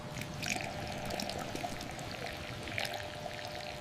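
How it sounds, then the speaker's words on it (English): Milk pours steadily into a bowl in a home kitchen, a continuous close liquid stream with no voices. "Elijah, pour the milk"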